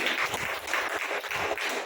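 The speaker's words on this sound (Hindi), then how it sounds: "ताली बजाओ ना" A church congregation claps along in worship. The handclaps come in rhythmic, regular bursts, moderately loud and close, with no speech over them.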